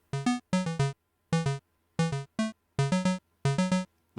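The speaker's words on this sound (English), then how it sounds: "So anyway, the second version of the melody sounds like this." Pico-8 chiptune melody in its second variation, bright square-like notes in short bursts falling through pentatonic downward patterns, evenly spaced phrases with brief gaps, clean and alone.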